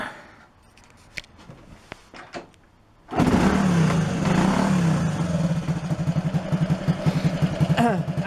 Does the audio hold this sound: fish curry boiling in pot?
no